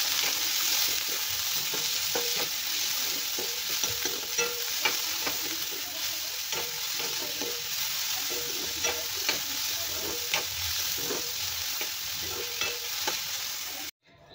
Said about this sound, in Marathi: आता घालूया आपण थोडंसं तेल, म्हणजे आपला कांदा लवकर भाजला जाईल